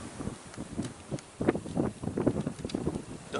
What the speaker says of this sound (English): Gotta love that wind.